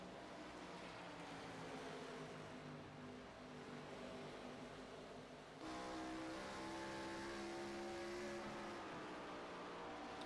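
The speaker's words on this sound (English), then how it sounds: "That's why you hear the RPMs kind of ranging a little bit different." ARCA stock cars racing on an oval track, engines droning and revving as layered tones that rise and shift in pitch, with a sudden louder surge partway through as the pack comes closer.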